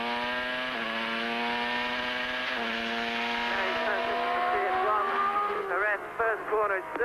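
A 1994 Formula 1 car at the European Grand Prix howls at high revs in an onboard lap, the engine note holding steady, dipping on upshifts, then warbling rapidly through downshifts toward the end.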